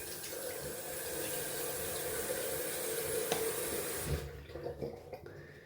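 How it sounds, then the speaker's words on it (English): Cold water runs from a sink tap in a steady rushing stream for about four seconds, then cuts off and gives way to splashing, dripping and wet hand sounds as the face is wetted, heard up close. "Let's wet the face in some cold water."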